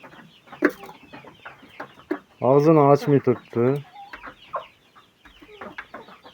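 Poultry chickens in a heated poultry house cluck and call, with a loud burst of drawn-out cackling in the middle and softer clucks scattered around it, under a man's speech.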